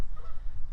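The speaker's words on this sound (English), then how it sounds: "oh boy, here come the Canadian geese." Canada geese honk over a pond, the calls coming through close and clear in a short burst.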